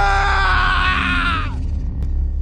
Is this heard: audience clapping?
no